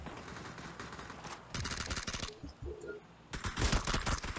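In PUBG, bursts of automatic gunfire rattle in rapid volleys with short gaps between them, loud and close, and a heavier barrage closes the stretch.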